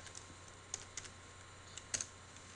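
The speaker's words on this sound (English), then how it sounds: "we type it there" Code being typed on a computer keyboard at a desk: a few scattered, faint key clicks, then a small cluster of sharper taps near the end, with no talk.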